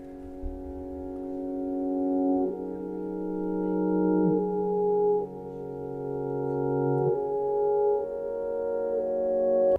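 A smooth synth tone swells in gradually, stepping through a slow melodic line with rising volume on each note, as if played backward.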